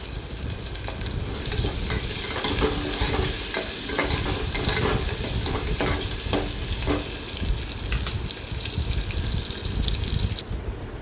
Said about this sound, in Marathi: आता हा उभा चिरलेला कांदा टाकून घेऊया कांदा व्यवस्थित परतून घ्यायचा आहे आपल्याला